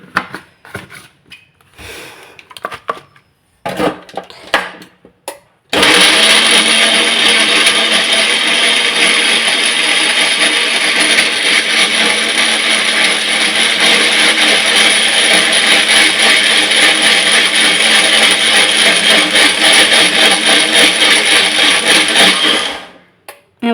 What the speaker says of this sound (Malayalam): കുറച്ച് വെള്ളം ഒഴിച്ചെടുത്താൽ നമ്മൾ മിക്സി താനെ പണി തുടങ്ങിക്കോളും